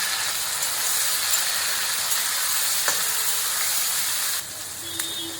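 Small shrimp with green chillies sizzling steadily in a hot pan, a continuous close hiss of frying with a brief stir or clink near the end.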